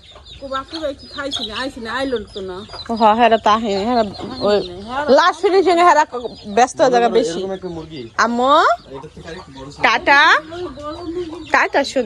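Backyard chickens, including young chicks, cluck and call in a busy run of short, repeated vocalizations throughout, with people talking nearby.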